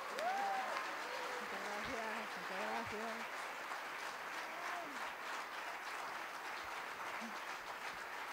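Audience applause for a singer being introduced at a live band performance, faint and continuous, with a voice speaking over the start.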